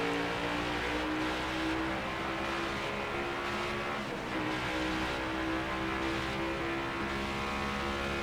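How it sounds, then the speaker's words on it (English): NASCAR Next Gen race cars accelerating on an oval track in NASCAR Heat 5, a steady layered engine roar with rising pitch as the pack pulls away, continuous and fairly close, no voices. "The sound of these things accelerating is really good,"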